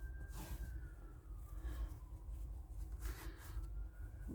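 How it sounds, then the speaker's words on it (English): Emergency vehicle sirens wail outside, heard faintly through a room as a distant rising and falling tone under low background rumble. "the siren's going mad out there"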